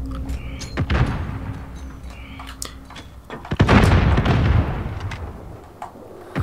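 Gunshots from a video game gunfight crack out as sharp, scattered reports: a few isolated shots, then a heavier burst of booming fire, over a low game background.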